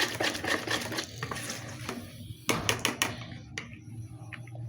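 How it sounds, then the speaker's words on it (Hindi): Fish masala mixed with yogurt gets stirred in a bowl, with close scraping and clinking strokes in quick bursts, a louder clatter midway, then quieter taps. "इसे अच्छी तरह से मिक्स कर लेंगे"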